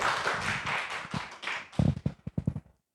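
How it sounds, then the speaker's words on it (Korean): A small congregation at a church service claps to welcome someone forward. Scattered hand claps come in an uneven patter near the end and fade to silence, following a stretch of muffled voices. "잘하셨습니다. 박수로 환영해 주세요."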